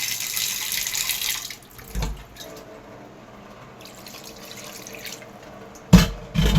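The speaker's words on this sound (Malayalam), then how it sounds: "കുറച്ച് വെള്ളവും കൂടി ഒഴിക്കാം നമുക്ക്" Water splashing and pouring in short bursts into a cooking pot of mutton curry, with quieter gaps between pours and a louder splash near the end.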